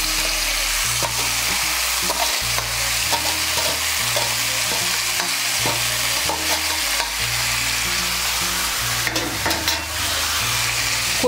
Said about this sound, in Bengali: এখন এর মধ্যে দিয়ে দেব সেদ্ধ করা কচু শাক।